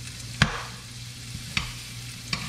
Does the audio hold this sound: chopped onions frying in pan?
yes